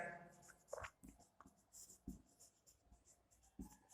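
Handwriting math on paper or board during a lesson on homogeneous functions: quiet, close scratching strokes coming in short irregular bursts with brief pauses between, a voice speaking softly at times.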